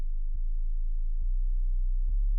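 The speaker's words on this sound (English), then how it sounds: "It's a really simple, clean sine wave here." A pure, deep sub-bass sine wave hums steadily, with three soft low clicks spaced about a second apart.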